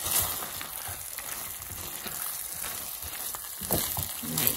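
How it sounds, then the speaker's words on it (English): Biscuit pot pie filling with cream of chicken sizzles and crackles steadily in a hot pan, close by, with scattered pops and faint scraping, no talking. "Hear that sizzle?"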